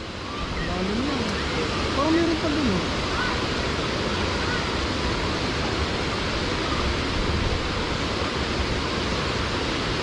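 A steady, broad roar of Maranum Falls, a waterfall, fills the scene, constant and enveloping, with faint voices briefly audible underneath.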